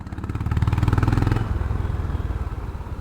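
A Honda CB350 RS motorcycle engine thumps at low rpm through a U-turn, a steady loud pulsing exhaust beat that eases and softens after the first second and a half.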